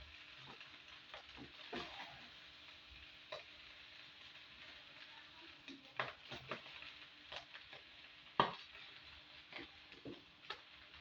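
Fried rice with sugar and ghee being stirred in a small, overfilled wok, faint sizzling beneath scattered scraping and clacking strokes of the spoon at an irregular pace.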